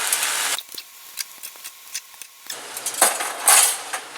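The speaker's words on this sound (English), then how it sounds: "I turn off the heat and pull the noodles out of the pot." Noodles being pulled from a cooking pot, with clinking metal utensils and pot scrapes in short irregular bursts, close by, between quieter pauses.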